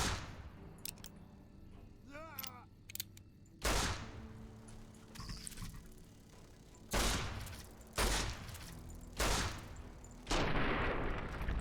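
Video game gunfire comes in repeated loud bursts separated by short pauses, each a sharp close volley over a low background hum, with a few faint electronic chirps early on.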